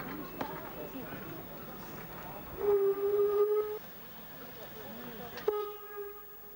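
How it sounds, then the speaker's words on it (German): Class 52 steam locomotive running on a railway track in 1994 on an industrial line in Leipzig-Plagwitz, with steady rumble, two sustained whistle blasts midway and near the end, and speech over the scene. "Die Baureihe 52 war 1994 noch auf einem Gleis unterwegs"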